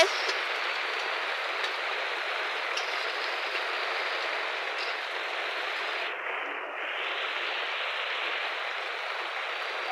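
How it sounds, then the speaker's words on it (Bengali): Heavy rain falls outside a home kitchen, a dense, even rushing wash that stays constant throughout and only briefly softens near the middle. "বাইরে খুব বৃষ্টি হচ্ছে দেখতে পাচ্ছ"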